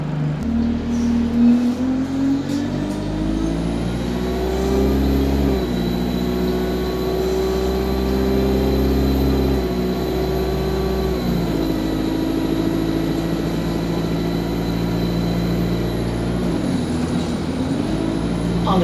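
Tower Transit Enviro 200 bus, registration YX11AGO, on route W15, heard from inside with a steady diesel engine drone rising and falling through gear changes, a faint high whine, and a hiss of air brakes near the end.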